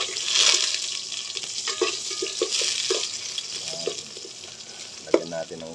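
Jackfruit cooks in a pan with a constant sizzle. Close, irregular scraping and clinking strokes of stirring sound throughout, with one sharper knock near the end.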